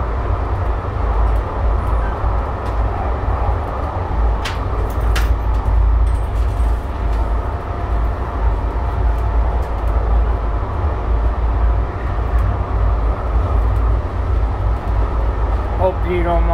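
Inside a Calgary C-Train SD160 light rail car, number 2316, a steady loud low rumble of the moving train continues throughout while people talk.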